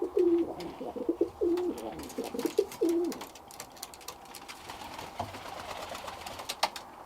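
Birmingham Roller pigeons coo in a loft, several soft repeated coos at the start, then fading into faint fluttering and scattered clicks and rustles nearby.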